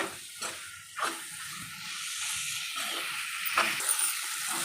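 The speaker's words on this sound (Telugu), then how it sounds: "ఇవి కూడా నూనెలో కొంచెం ఏంపుడుగా ఫ్రై అయితే తర్వాత పులుసు వేసేద్దాం ఫ్రెండ్స్." Dried fish frying in oil in a pan, with a continuous close hiss and sizzle and a few soft bumps.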